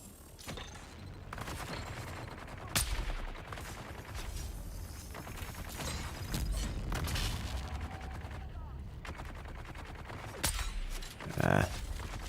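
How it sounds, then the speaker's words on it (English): Bursts of heavy gunfire from a Harkonnen heavy gunner in the video game Dune: Awakening, repeated loud volleys and booms over a steady noisy game soundscape, with a player speaking at times. "Blasted by a Harkonnen heavy gunner."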